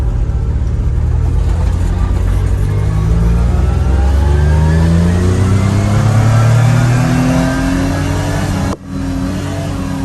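A Daihatsu Jumbo HiJet mini truck's small engine revs up and drones loudly as the truck turns, its pitch rising steadily before easing off with a brief dip near the end; no talk.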